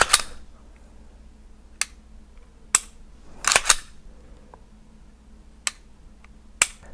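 A Timney Alpha competition trigger installed in a Glock 17 is dry-fired, giving sharp, isolated clicks close by with quiet gaps between them and one quick double click near the middle.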